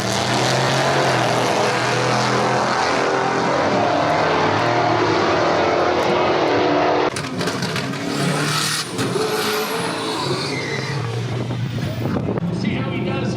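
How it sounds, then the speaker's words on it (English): Nitrous-fed drag race car at a drag strip, a loud sustained engine roar filling the first half, then dropping to a rougher, more distant rumble with crowd and commentary-like voices underneath. "Right now, as I mentioned, Rovic, another nitrous ride"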